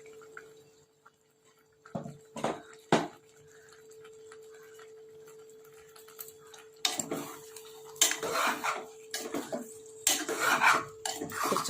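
Tomato egg curry gets stirred in a pan: sparse metal spoon clinks and scrapes against the pan, growing into busier clattering bursts toward the end over a faint steady hum.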